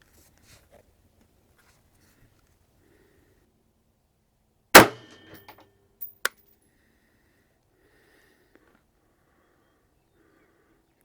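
A single loud, sharp rifle shot of Hornady M193 ammunition at an outdoor range cracks out, followed by a few quieter clanks and small impacts in an otherwise quiet setting.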